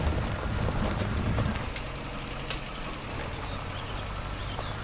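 Lada 2103 in the Spintires driving game churning through mud, its engine a steady, loud broadband drone with low rumble throughout and a couple of brief clanks, no voices.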